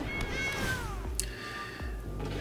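A cat card in a digital card game lets out a clear, close meow with a falling pitch, followed by chiming game effects and a short second cry, with no talking over it.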